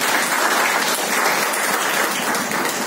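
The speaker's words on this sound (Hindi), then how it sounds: "तो जेंट्स के लिए तालियां होनी चाहिए" Loud, steady applause from an audience at a distributor training session, dense clapping continuing evenly with no speech over it.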